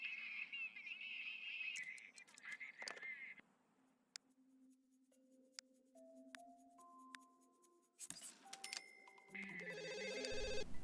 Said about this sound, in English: we're calling Marissa just for a friendly chat on the phone